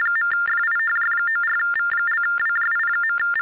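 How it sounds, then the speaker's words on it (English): A telephone rings with a steady electronic warbling tone, loud and close, repeating in quick pulses with brief gaps and no voices over it. "Is that my phone?"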